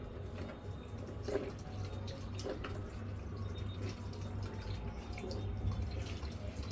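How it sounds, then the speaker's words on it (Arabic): Vinegar poured from a freshly opened bottle into a washing machine detergent drawer, a soft, low continuous trickle and splash close by, with no talk. "ازازه خل اهي لسه بفتحها، يا ريت تكون بنوع نضيف يعني، وهفضيها كلها في الدرج."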